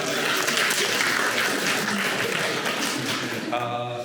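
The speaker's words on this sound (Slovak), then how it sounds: "zatleskajte pani učiteľka" Gymnasium students and guests at a school talk applaud the teacher with dense, steady clapping that fills the room, ending as a faint voice or tone comes in.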